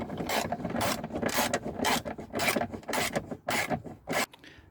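A ratchet tightens towbar bolts on a Rover 45, with rapid rasping clicks in repeated strokes, close up and alone.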